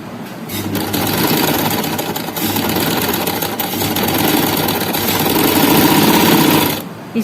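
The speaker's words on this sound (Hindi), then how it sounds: "ये किनारे पे सिलाई लगेगी इसके" An electric sewing machine runs steadily, stitching the edge of an umbrella frock, its loud, even whirring motor hum lasting about seven seconds before stopping abruptly.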